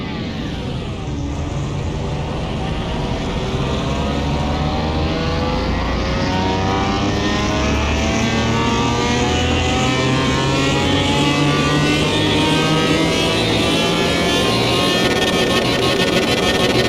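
Wide-body McLaren engine revving hard on a dyno in Car Mechanic Simulator 2021, a loud, sustained roar that climbs steadily in pitch through the gears with no pauses.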